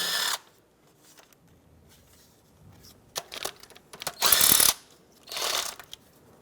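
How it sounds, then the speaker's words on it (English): A hand ratchet loosens 8mm nuts and bolts on the valve cover of a 2012-2020 Ford Focus, giving several short, crisp clicking bursts separated by quiet pauses, close up. "Now I'll just work my way around, remove all the 8mm nuts and bolts."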